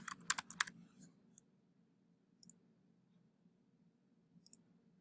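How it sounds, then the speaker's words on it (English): Quick bursts of computer mouse clicks, including a double-click, followed by a few isolated keyboard or mouse clicks, close and crisp over a low steady hum, with no talking. "Then I'm going to double click the background and call this one Standing."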